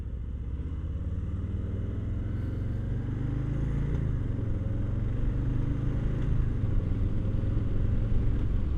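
A Harley-Davidson Low Rider S motorcycle cruises along with a steady low engine rumble and wind, moderately loud and continuous, with no voices.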